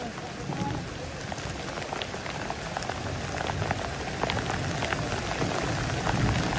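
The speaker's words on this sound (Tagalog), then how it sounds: "Lumakas pa ulan" Steady, dense heavy rain hisses across the whole clip at a construction site, building slightly toward the end, with faint voices mixed underneath.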